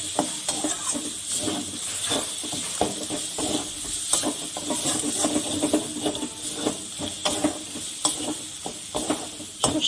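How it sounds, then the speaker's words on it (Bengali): Teasel gourd filling stir-fries with mustard paste in a pan, giving a dense, continuous sizzle and hiss under busy scraping and stirring strokes, close and fairly loud throughout, with no voices. "এবার এটার মধ্যে আমি সর্ষেটা যে বেটে রেখেছিলাম ওই সর্ষে বাটাটা দিয়ে দেব। দিয়ে আর 2 মিনিটের মতন কষিয়ে নেব।"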